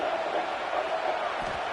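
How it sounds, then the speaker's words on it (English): Football stadium crowd roaring during an Ole Miss at Florida State game, a steady dense wash of cheering and noise throughout, fairly loud and continuous with no clear talk. "This crowd trying to make life miserable for this offense."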